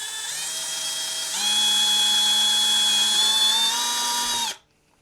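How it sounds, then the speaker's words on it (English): A power drill bores holes into the side of a plastic Barney Heart Glow toy, giving a steady whine that rises in pitch partway through and then cuts off abruptly near the end. "So that's where I'm going to drill my holes, kind of right here in the side."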